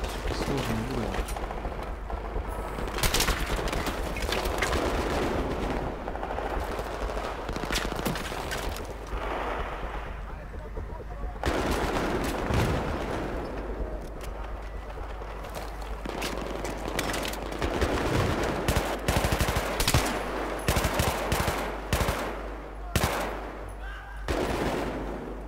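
Rapid bursts of Battlefield 3 gunfire, automatic weapons rattling in dense volleys with brief gaps, loud and continuous throughout.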